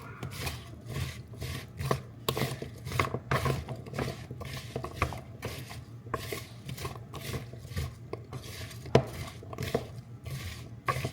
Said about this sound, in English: So I'll just stir all of this around.